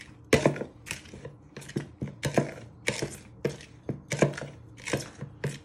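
A knife stirring sweet shortcrust pastry ingredients with caster sugar in a mixing bowl, heard as a steady run of close, sharp scraping clicks and taps against the bowl, about two per second, with no talking.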